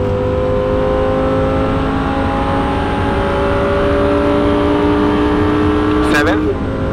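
A 620 hp Lamborghini Huracan Evo at full throttle on the Monza racetrack, its engine note rising steadily in pitch for about six seconds and then dropping sharply at the upshift, loud and close inside the car.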